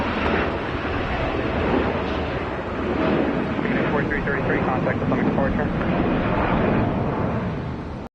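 An airliner takes off from runway 30 at Washington Dulles, a loud, steady, broadband jet roar that runs the whole clip and swells slightly midway, with faint radio voices beneath it.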